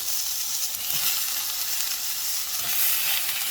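Tomatoes hitting a frying pan of translucent onions for palak paneer, a close, steady bright sizzle with faint stirring bumps throughout.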